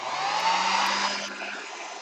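A hair dryer blowing to dry paint on a gelli print between layers, a loud steady close whirring hum that eases slightly in level toward the end.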